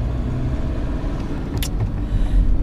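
A car driving, heard from inside as a steady low engine and road rumble that swells slightly near the end, with a brief click partway through.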